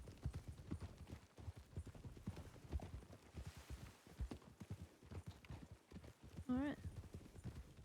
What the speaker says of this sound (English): Picking up the canter.